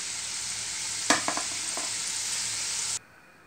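Potatoes fry in a pan with a dense, even hiss that runs loud and close, broken by a few quick knocks of a spoon on the pan before the sizzle cuts off sharply near the end.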